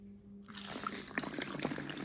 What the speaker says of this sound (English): We're gonna go ahead and add our water.